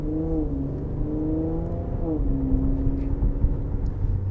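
A 2021 Infiniti Q60 Red Sport 400 AWD sports GT car is driving, its engine note rising and falling through gear changes at moderate volume over steady road noise.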